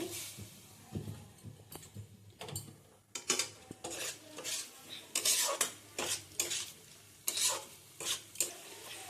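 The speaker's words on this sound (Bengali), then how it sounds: "ততক্ষণ নাড়তে থাকবো যতক্ষণ টমেটোগুলো না গলে যাচ্ছে" A metal spoon stirs tomatoes in a cooking pot while making an oil-free chicken dish, producing irregular scraping strokes and sharp clinks against the pot, close and fairly loud, with no talking.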